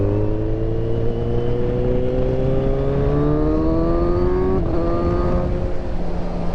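Kawasaki Ninja 1000 SX motorcycle ridden on the road with stale fuel that has sat for weeks; a steady, loud engine drone rises gradually in pitch, with a brief gear-change dip near the end and wind rush throughout.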